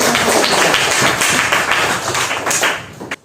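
Classmates clap in an Indonesian school classroom, a steady burst of many hands lasting about three seconds before tapering off with a final few claps.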